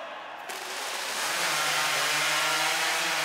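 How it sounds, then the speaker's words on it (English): A hot saw, a modified high-powered chainsaw, cuts down through a log at a STIHL Timbersports championship, starting after half a second and rising to a loud, steady high-pitched roar that holds to the end. "Richard Jordan, a big first cut, but he is motoring down through that log"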